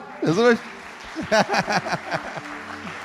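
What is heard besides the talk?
applause for the Lord in a church service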